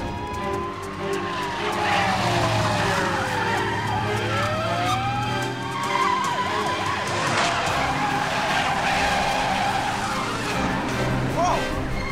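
Car tires squeal and skid during a reckless chase in the TV series L.A. Heat, with wailing pitch sweeps over a loud, continuous engine roar and busy traffic.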